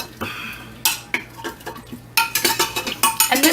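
A spoon stirs steak and Brussels sprouts in a pan, with repeated clinking scrapes against the metal in an uneven rhythm that grows busier and louder toward the end.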